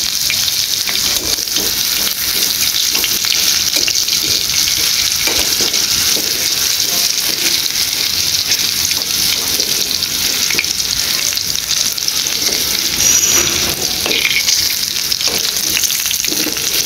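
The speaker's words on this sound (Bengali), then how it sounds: "তো এখানে এই যে আমি আলুটা ভালো করে ভেজে নিয়েছি।" Potatoes fry in hot oil on a village veranda, giving a loud, dense, constant sizzle and crackle that stays close and unbroken, with no voices over it.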